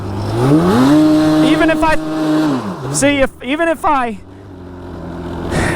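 Quad ATV engine revving hard with rising and falling pitch sweeps during a powerslide on dirt or pavement, loud and close, with someone talking over parts of it.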